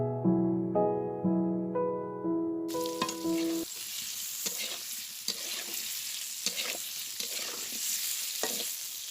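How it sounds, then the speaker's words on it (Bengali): Boiled potatoes sizzle in hot oil in a kadai, a bright steady frying hiss with repeated scraping stirs after some musical notes fade out at the start. "কড়াইতে আবারও তেল দিয়ে সেদ্ধ করে রাখা আলুগুলোকে একে একে দিয়ে দিচ্ছি"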